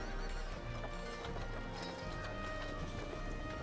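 Horse hooves clip-clopping with a neigh, faint and steady under a dense background bed of sound accompanying a fantasy tabletop role-playing session.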